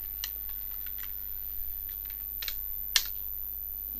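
Command typed on a computer keyboard, a handful of light, scattered key clicks with one sharper press near the end, close but quiet over a low steady hum.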